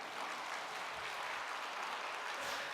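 A church congregation applauds during a Sunday service, a dense, steady wash of many hands clapping together that holds evenly throughout without a break.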